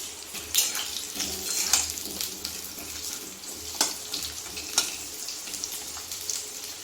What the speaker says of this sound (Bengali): ওই জন্য আলুটা আগে ভেজে নিচ্ছি